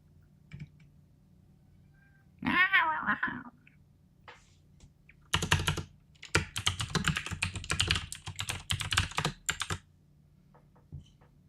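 A cat gives one short, clear meow up close, followed by a long run of steady, fairly loud computer keyboard typing, with no voices.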